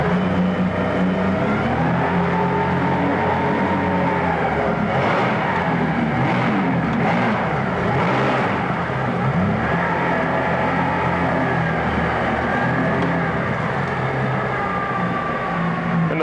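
A 2011 Yamaha 75 hp four-stroke outboard with a 20-inch shaft and tiller handle runs in forward gear in a test tank, a loud steady engine drone with harmonic tones that surges and bucks midway as the propeller cavitates.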